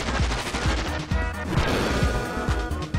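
Fire attack in Super Mario RPG: a dense, crackling burst of rapid popping and whooshing impacts that keeps going steadily for a few seconds.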